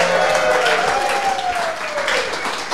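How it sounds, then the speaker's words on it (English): A studio audience at a cycling talk show applauds loudly and steadily, with some cheering mixed in, the clapping easing slightly toward the end. "please give a round of applause for Phil Anderson on my left tonight."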